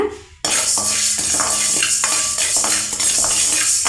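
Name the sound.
urad dal being roasted and stirred in a pan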